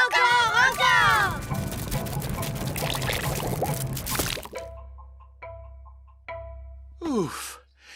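A cartoon torrent of jelly gushes from a magic basket in a loud, wet rush, then gives way to a few quieter plops and drips, with character voices sighing and talking over parts of it.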